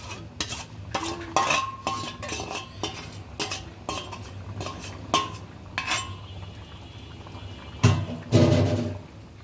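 A spoon scrapes and clinks through khichuri with meat, oil and spices in a pot, in irregular close strokes with metallic knocks, a heavier scraping burst near the end, and no talking.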